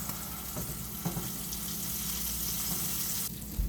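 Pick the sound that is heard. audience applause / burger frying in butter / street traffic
burger frying in butter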